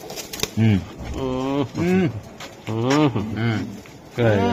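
Budapest pigeons cooing close by, several drawn-out rounded coos in separate bursts, with faint clicks and shuffling between calls.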